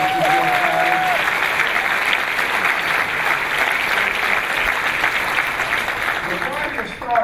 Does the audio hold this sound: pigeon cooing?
no